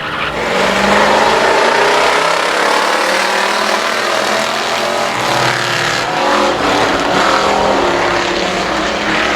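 Race cars at I-37 Speedway roar as they accelerate at the green flag start, a loud dense wall of engine noise with rising revs from several cars passing close, sustained throughout the clip.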